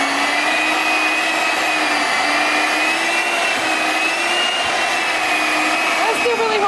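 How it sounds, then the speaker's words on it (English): A handheld electric cake mixer mashes potatoes, giving a steady, loud high-pitched motor whine with a low hum underneath that holds without a break for several seconds. No one speaks. "It's really hard to hold y'all and try to mash potatoes like that, so we are gonna use"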